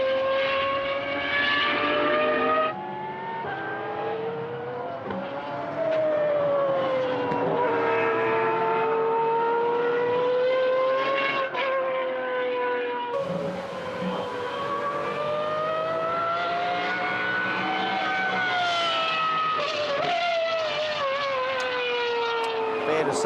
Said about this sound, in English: I'll just let you listen to the millions of dollars of hypercar